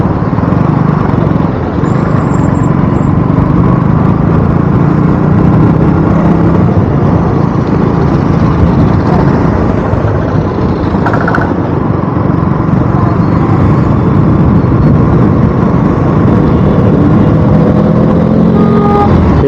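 Loud, steady engine drone and road rumble from a vehicle being driven on a Sunday trip, continuous and close with no pauses or voices.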